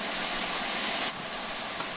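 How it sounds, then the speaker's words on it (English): Steam hisses steadily from a steam locomotive's cylinder cocks in a train simulator game, a loud, broad rushing jet that cuts off sharply partway, leaving a softer hiss. "the cylinder should have been blown clear by the steam jetting out of them"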